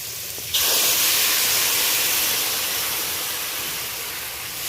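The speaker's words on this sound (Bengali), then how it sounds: "এখন গরম জল দিলাম সবজিগুলো ভালোভাবে কুক হয়ে যাক" Hot water is poured into a pan of cooking vegetables for a sweet potato and prawn sour curry, setting off a sudden loud, steady steaming hiss that fades slightly as it continues.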